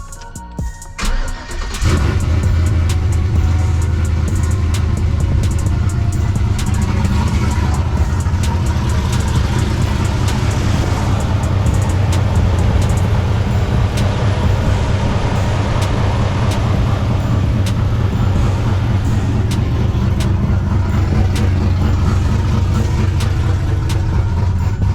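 A choppy cat-eye sleeper car's engine cranks briefly and catches, then settles into a loud, lumpy idle that runs on steadily, close up with no voices over it.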